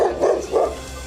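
Two dogs attacking a child in a residential society in Raj Nagar Extension, Ghaziabad, give three rough, close barks in quick succession over a constant background hum.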